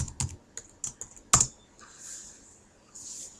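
A computer keyboard is used to type a username and password for an Oracle Solaris login, giving several sparse, close key clicks with one sharper tap, then quiet.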